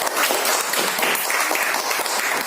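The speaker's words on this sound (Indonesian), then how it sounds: "Ya, tepuk tangan dulu." A classroom of students claps together for a group leader after a science report on series circuits, a dense, steady patter of hand claps lasting the whole stretch with no voices over it.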